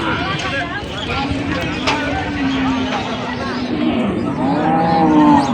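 A dairy cow lows repeatedly at a rural cattle market in Dinajpur, her calf beside her, the moos loud and drawn out over a constant babble of nearby traders' voices.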